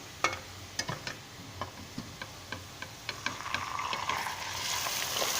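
Chicken pieces drop into golden brown fried onions in a pan of hot oil, giving a run of sharp scraping and spitting ticks that build into a steady, close sizzle.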